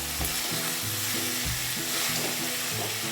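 Chicken mince with onion, salt and oil sautéing in a pan for momo filling, a dense continuous sizzle close by with rhythmic low knocks of stirring at regular intervals.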